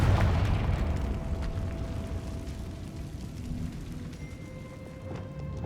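A Confringo fire spell from Hogwarts Legacy bursts in a deep, booming explosion at the start, its rumble fading away over several seconds, with no speech.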